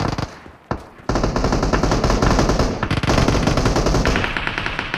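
Automatic gunfire in the BGMI PUBG video game rattles in rapid, loud bursts, with a short gap early on followed by several seconds of sustained, dense shooting.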